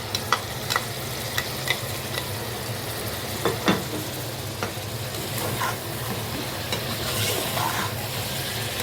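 Chicken frying with garlic, ginger and green chili paste for biryani, being stirred in a pan: a steady loud sizzle runs throughout, with scraping knocks of the spoon against the pan at irregular intervals.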